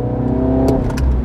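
A MINI John Cooper Works engine and exhaust roaring steadily and loud, with a deep, continuous throaty rumble through the short moment and no talking over it.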